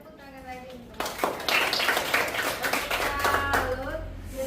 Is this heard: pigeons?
no